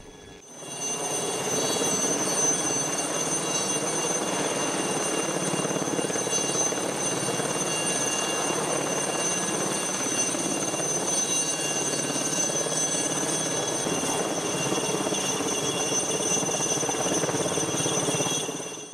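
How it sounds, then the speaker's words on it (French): A Lama cargo helicopter flies steadily overhead, its rotor thumping and engine whining loudly and continuously for the whole stretch. "c'est un lama qui s'est chargé du travail, non pas le camélidé d'Amérique du Sud, mais son homonyme, un hélicoptère"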